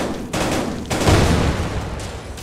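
Gunfire in a VR shooter video game: dense, loud bursts of shots run almost without pause, with a brief lull before a heavier volley near the middle.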